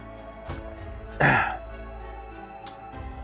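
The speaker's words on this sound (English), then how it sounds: "enough of the coughing" A single harsh throat-clearing cough rises sharply out of quiet background hum during Iratus gameplay, with a couple of fainter throaty sounds around it.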